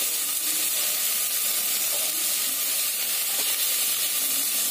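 Tomatoes sautéing in hot oil for a chicken dum biryani, a steady, fairly loud hiss and sizzle running without pause from start to end, with no voices over it.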